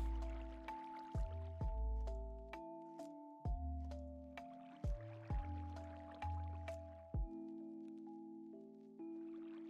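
Molten metal poured into ingot moulds in the Minecraft Create mod, a run of repeated dripping, squishing pours with chiming tones, each landing in steady sequence, clear and close with no talk.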